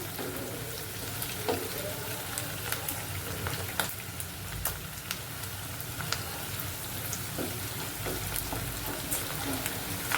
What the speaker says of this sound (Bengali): হালকা পেঁয়াজটা হালকা ভাজা ভাজা করতে হবে